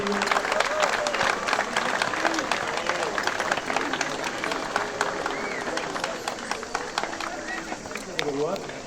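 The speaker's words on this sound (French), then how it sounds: "pour les applaudir encore une fois très très fort" Crowd applauding loudly outdoors at the Saint-Éloi festival at Château Gombert, dense sustained clapping with cheering voices and talk mixed in throughout.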